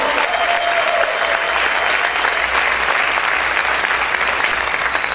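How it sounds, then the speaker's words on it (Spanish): A church congregation breaks into loud, sustained applause at a worship service, dense clapping filling the room evenly from start to finish with no voices rising above it. "dale ese aplauso fuerte al Rey"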